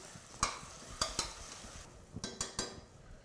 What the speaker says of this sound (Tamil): தயிர் ஊற்றிடுறேன். புளிக்காத தயிர் மிக்ஸ் பண்ணிக்கலாம்.